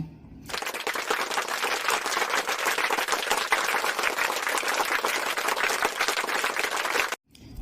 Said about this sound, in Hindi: तो उन साथियों को एक बार जोरदार तालियां